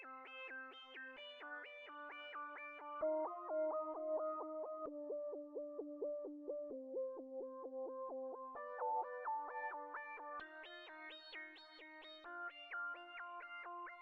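A wavy synth arpeggio plays the same notes spread across two octaves, a steady run of even, fast note steps that shifts between lower and higher registers, alone and at moderate loudness with echo-like effects.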